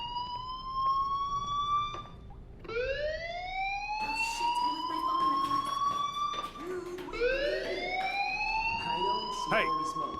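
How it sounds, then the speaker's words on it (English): A fire alarm in the video game Life is Strange Remastered wails in rising, repeating sweeps, loud and steady, with a voice speaking over it. "Hey, do you hear that fire alarm?"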